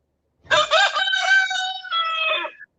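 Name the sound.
rooster crowing in the backyard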